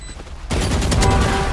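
Loud, close shotgun blast from Viper in the video game Valorant, a sudden burst that leaves a dense, sustained roar of gunfire noise for the rest of the moment.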